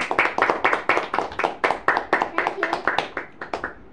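Close, steady clapping from a few people honouring the runner-up teams in a home cooking challenge, about a dozen distinct sharp claps in an even rhythm, with faint voices underneath.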